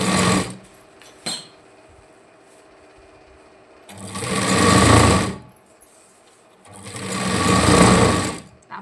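A sewing machine stitching a boat-neck princess-cut front panel, with two sustained whirring runs of several seconds each, separated by quiet pauses and a few small clicks.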